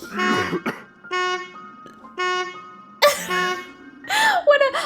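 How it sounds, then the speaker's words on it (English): Repeated synthetic car horn honks from the video game Tiny Bunny in short bursts, with voices talking and laughing over and between them. "whenever I hover over the car, it just honks"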